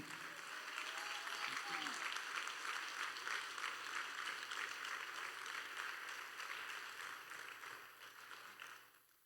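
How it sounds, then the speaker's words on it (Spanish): Faint, distant applause from a church congregation during a sermon, a continuous wash of clapping under a low steady hum, fading out toward the end. "Denle un aplauso a Dios, hermano."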